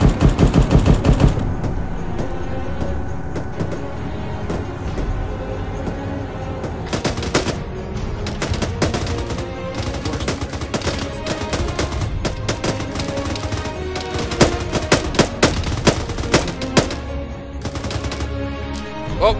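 Sustained automatic weapon fire in a military combat setting with a 40mm grenade element, dense bursts rattling continuously for the whole stretch, loud and close, with sharper cracks standing out toward the end.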